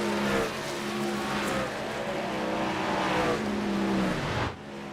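Racing truck engine in a sim racing game at Dover, a loud sustained harmonic drone that holds steady then drops in pitch as the driver lifts off the throttle near the end, with no talk.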